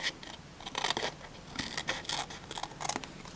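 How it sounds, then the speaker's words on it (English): Scissors cutting through paper or cardstock for a handmade card, a run of short crisp snips and scraping blade strokes close by, with no talking. "I'm just simply going to cut that off"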